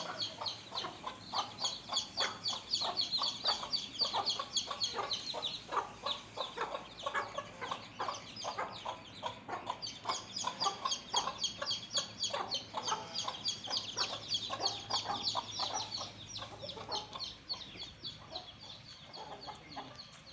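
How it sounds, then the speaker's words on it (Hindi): Continuous clucking and chatter from chickens, a desi-aseel cross rooster among them, steady and fairly close for a long stretch. "ये मुर्गा है देसी प्लस असील"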